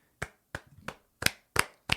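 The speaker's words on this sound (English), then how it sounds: "You could also get polite claps by cross-posting." Polite applause comes in six separate short hand claps, spaced about a third of a second apart, dry and close with no voices.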